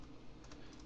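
Close keyboard typing for a moment, a steady patter of quick key clicks with a few sharper taps, no talk.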